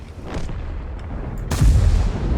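Tank cannon shots from the World of Tanks video game: a faint shot early, then a heavy booming report about halfway through with a rumbling tail, no speech.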